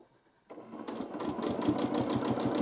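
A sewing machine starts up after a brief quiet moment and runs steadily in a fast, even mechanical rhythm while free-motion quilting a large quilt.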